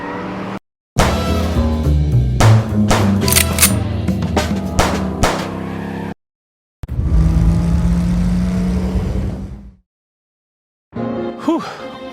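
A car engine roars loudly during a chase in the video game Chicken Police, sustained and revving, broken by short gaps, with game music and voices mixed in.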